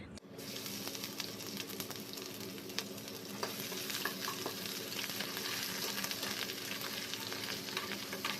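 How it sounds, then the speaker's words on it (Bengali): Potato and pointed gourd sizzle steadily in a pan with ginger and cumin, a dense continuous frying hiss with scattered crackles and occasional stirring clicks, close and even throughout. "আলু পটল সব কেটে ভালো করে ধুয়ে নিয়ে এদিকে একটু আদা আর সাদা জিরে ফোড়নে দিয়ে এদিকে বসিয়ে দিয়েছি"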